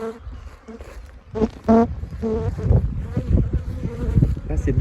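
Honey bees buzz around beehives sponsored by schools in Sarralbe, a close, wavering drone of several insects passing near, with someone talking over part of it.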